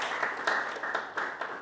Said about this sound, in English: A big round of applause for Abhinav.